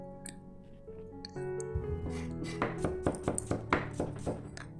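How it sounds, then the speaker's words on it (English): A knife dicing Bombay onions into half-centimetre cubes on a board: a steady run of crisp chopping taps that starts partway through, set against soft sustained background music. "So just cut them into half cm cubes like so."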